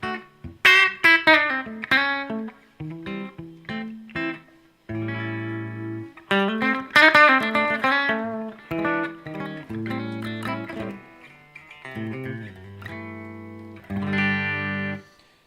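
Electric guitar from a Harley Benton unboxing, played clean and sparkly through effects with chorus and reverb, picking single notes and chords in varied rhythmic phrases, close and steady in level with no talking.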